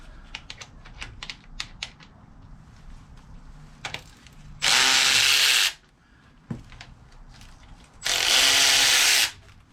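Rusted bolts on a Ford 8.8 axle cover come loose under a power tool. Two loud, roughly one-second buzzing bursts are heard up close, with scattered clicks and rattles of the tool and parts before and between them.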